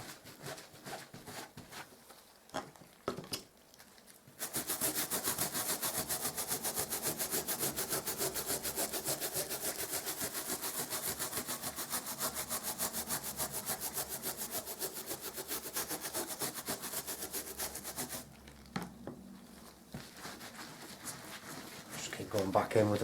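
A stiff scrubbing brush works back and forth over carpet while removing foam, caulk or paint, giving a fast, steady rhythmic scratching that runs for several seconds. Quieter handling noises come before and after it.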